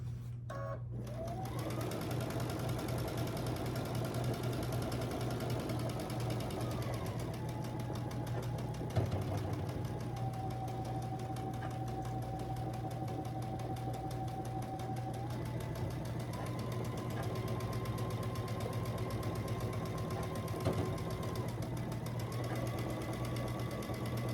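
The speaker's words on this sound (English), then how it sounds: "And now I'm ready to stitch 1/4 inch all the way down this side." A sewing machine runs continuously, stitching a quarter-inch seam down the edge of fabric with a steady mechanical whir and hum whose pitch shifts a few times as the speed changes, with no pauses.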